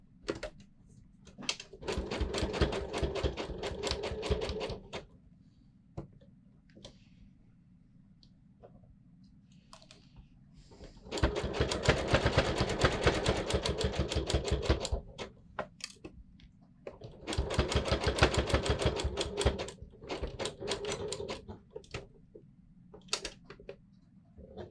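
A sewing machine runs zigzag stitches to attach eyes onto a sports bra in three rapid, rattling bursts of several seconds each, separated by quiet pauses with light clicks.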